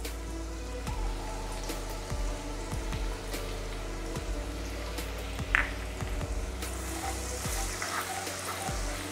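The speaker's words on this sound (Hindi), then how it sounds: "लहसुन थोड़ा फ्राई हो जाए।" Chopped garlic fries in hot oil in a pan while cooking Indo-Chinese chicken fried rice. A quiet, continuous sizzle runs throughout, with scattered soft pops and light stirring clicks.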